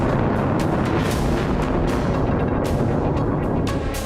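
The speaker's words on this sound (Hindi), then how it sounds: "सबसे ज्यादा मिसाइलें उन ठिकानों पर दागी गई" Iranian missile launches produce a heavy, continuous roaring rumble with crackling bursts layered on top, loud and dense throughout without any voices.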